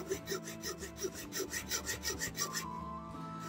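Hand saw cutting through a plastic model kit part, a steady run of about a dozen rhythmic rasping strokes, close and fairly quiet, stopping near the end with no talk.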